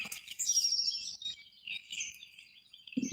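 Small birds at a front-yard bird house chirp and twitter in quick, high, overlapping calls, moderately close and continuous, with a brief low knock near the end.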